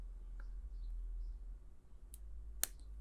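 Pins of a Master Lock 140D padlock being single-pin picked with a shallow hook, giving two sharp, faint clicks close together near the end over a low, steady hum.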